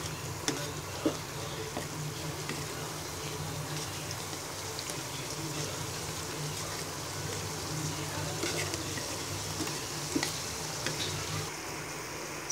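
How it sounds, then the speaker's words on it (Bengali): Bengali nimki pastry pieces frying in hot oil and being turned over, giving a steady, even sizzle that runs close and unbroken throughout with no talking. "এবার নিচের পিঠ হয়ে গেলে এপিঠ ওপিঠ করে ভেজে নিব।"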